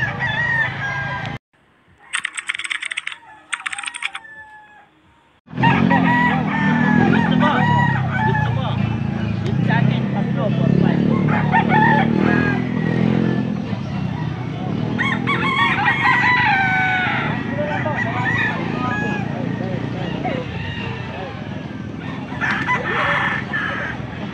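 Several roosters crow repeatedly, near and loud, with hens clucking and a busy murmur of people and activity around them, at a poultry market in Angeles City, Pampanga.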